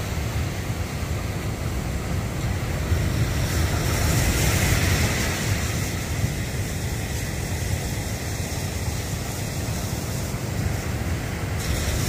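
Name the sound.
big sea waves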